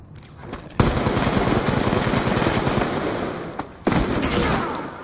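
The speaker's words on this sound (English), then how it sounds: "Point blank shotgun blast doesn't kill him." Gunfire from a shotgun in Black Ops 2, a dense loud burst of shots followed by a second sharp blast near the end, close and dominant with no talk.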